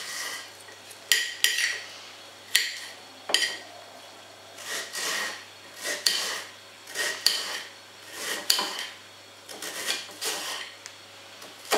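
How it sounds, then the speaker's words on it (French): A knife slicing an onion into thin strips on a cutting board, a steady series of crisp, close chopping taps and scraping cuts repeating every second or so, with no talk. "Je vais couper ça en fines lamelles comme ça"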